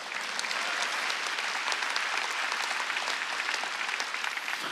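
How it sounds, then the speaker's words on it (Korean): A church congregation applauds during a sermon, a dense, steady wash of many hands clapping that holds evenly for the whole stretch with no pauses. "박수."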